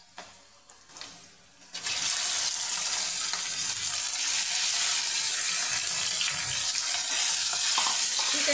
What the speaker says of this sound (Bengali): এবার আমি চিকেনটা হালকা করে ভেজে দেবো